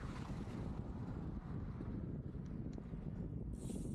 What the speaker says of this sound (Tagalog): Ditong mahangin na part na to